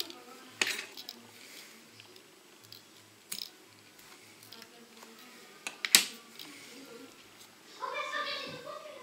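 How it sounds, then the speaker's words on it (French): Sharp scissor snips trim excess foam and material from a winged-ant fly on a fly-tying vise, a few isolated crisp clicks spaced out under quiet, intermittent talk in French. "On va couper tout ce qui est excédent là."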